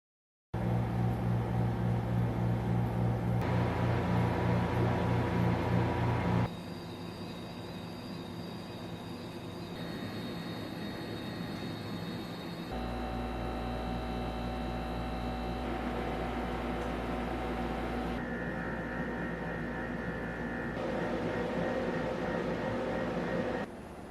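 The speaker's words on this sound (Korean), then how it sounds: "제습기는 압축기와 팬이 돌아가면서 꽤 큰 소음을 발생시키는데요" A household dehumidifier's compressor and fan, heard from about a metre away, give a steady mechanical hum with tonal whine that shifts in pitch and loudness in several distinct stages as fan speed and mode change. No talking.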